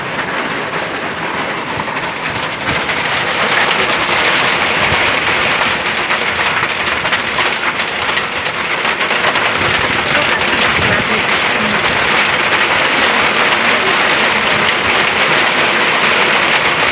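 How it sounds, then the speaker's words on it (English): Heavy rain pours down steadily on a flooded area, a dense, unbroken hiss that grows a little louder after the opening seconds. "So flooded out here, and the rain is still too much."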